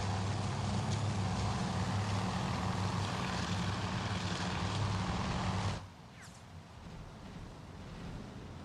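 Torpedo bomber aircraft engines in Task Force Admiral, a steady propeller drone roaring close by for several seconds, then dropping away abruptly to a fainter distant hum.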